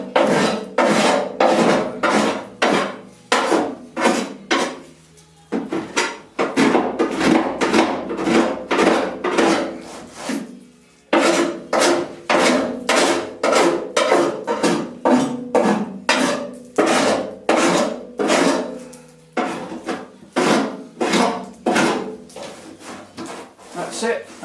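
A surform rasp shaves excess body filler off a Jaguar E-Type V12 car body in a rapid series of close, rhythmic scraping strokes with brief pauses, while someone talks over it.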